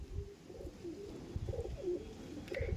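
A male Andhra pigeon at a pigeon sale coos in soft, rolling, wavering phrases, close by, repeating over a low background rumble.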